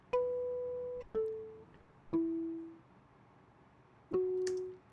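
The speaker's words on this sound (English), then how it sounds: "So without the reverb, that sounds like this." Electric guitar harmonics on chord root notes played dry with no reverb: four clean, bell-like plucked notes, each struck sharply and fading quickly, spaced about a second apart with a pause before the last, alone with no talking.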